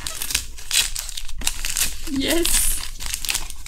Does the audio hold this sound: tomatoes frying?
no